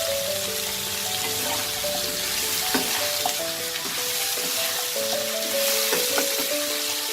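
Papaya and ridge gourd fry lightly in hot oil for a Bengali sukto, a close steady sizzle with crackles and occasional stirring scrapes, no voices.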